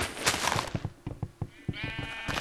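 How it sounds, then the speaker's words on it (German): Sheep in the video game Minecraft bleat in short, repeated calls over a dense mix of game sounds and clatter, loud and close, with other noises overlapping. "Geht zu euren Freunden, ihr Schafe."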